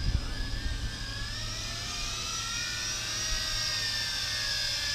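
A Tarantula X6 multirotor drone spins through pirouettes nearby, its rotors giving a steady, high-pitched whine and buzz with gently shifting pitch, continuous and fairly loud with no talking.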